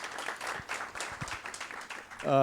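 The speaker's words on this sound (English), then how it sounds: "just give me a round of applause for these awesome people" Brief applause from a conference audience for a conservation finance panel, a quick patter of scattered clapping that dies away as a voice begins speaking.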